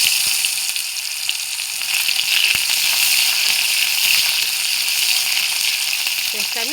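Onions sizzle steadily in hot oil in a home kitchen, with fennel and cumin already in the pan, a bright, even hiss and crackle throughout, with brief speech near the end.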